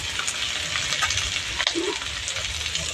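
Broccoli and carrots fry in a pan, giving a continuous close, even sizzle with light crackles and one brief clatter of stirring partway through.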